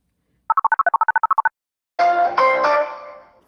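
A telephone call being placed: a rapid run of about a dozen evenly spaced DTMF dialing beeps, then a short pause before a loud, multi-tone ringing or connection signal swells and fades out, with no voices.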